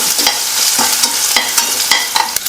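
Mustard seeds, dried chilli and crushed skin-on garlic sizzle and spatter in hot oil, with steady frying hiss and repeated spoon-scraping stirs at close range; no voices.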